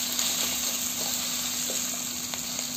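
Chicken masala fries in a pan with a continuous, even sizzle and occasional soft pops, close up, with no voices over it.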